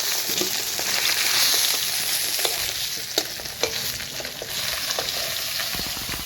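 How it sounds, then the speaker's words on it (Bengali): Katla fish frying in hot oil makes a loud, dense, steady sizzle with scattered crackles and spatters, close by and continuous, with no talking. "এখানে আমাদের মাছগুলো ভাজা কমপ্লিট"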